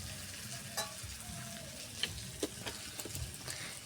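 New potatoes and sea fish for a spicy curry are stir-fried in a pan, giving a low, steady sizzle with a few sharp clinks and scrapes of the spatula against the pan, close and alone.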